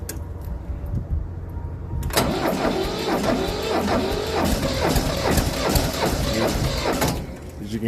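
A tractor's diesel engine cranks hard and unevenly as it tries to fire on a single injector, a loud, close, labored churning with rhythmic starter strokes after a quieter lead-in, ending abruptly.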